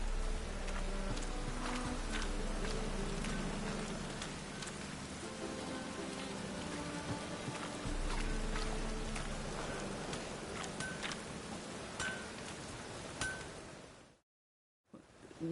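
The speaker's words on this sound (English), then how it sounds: "Looks like rain." Video game rain patters steadily on a surface with scattered close drips and taps, continuous for most of the stretch before a brief silent gap.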